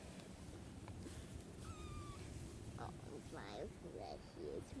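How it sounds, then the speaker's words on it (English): A fluffy kitten meows several times, soft, high and close, each cry short and rising, while people chat nearby in a quiet room. "That is a fluffy kitty."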